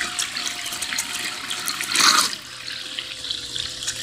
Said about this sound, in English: Kind of give it a bit too much water there.